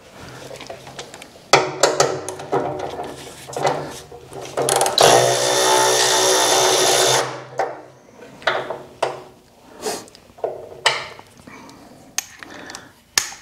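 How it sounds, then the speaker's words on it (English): Power tool spinning off three nuts on a John Deere 1025R snowblower attachment during a parallel shaft gear drive conversion, heard as short close bursts of whirring and ratcheting, with one longer sustained run in the middle. "So we'll get these three nuts off here"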